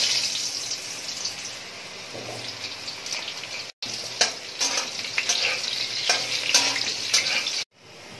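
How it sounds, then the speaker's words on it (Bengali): Potato pieces frying in hot oil in a kadai, a bright, crackling sizzle with spatula stirring, close and loud, with two short breaks in the sound. "তো প্রথমেই আমি আলুগুলো ভেজে নেব।"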